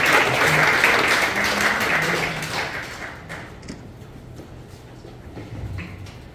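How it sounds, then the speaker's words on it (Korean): Audience applause welcoming a speaker at a presentation, loud dense clapping at first that gradually thins and fades to a few scattered claps. "큰 박수로 모시도록 하겠습니다"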